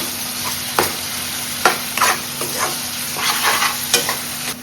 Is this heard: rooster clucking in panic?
no